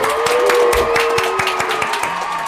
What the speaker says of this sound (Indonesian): Tepuk tangan untuk Studio Kai